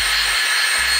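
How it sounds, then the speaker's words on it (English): A Nitecore BlowerBaby electric air blower runs in a steady, loud, full-band rush of air, with a brief dip in its low-end hum partway through before it picks up again. "That's a lot of air."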